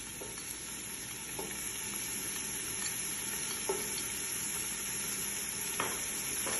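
Onion and spices sizzle steadily in olive oil for kapsa rice, with a few soft scrapes and knocks of stirring over the continuous close frying hiss.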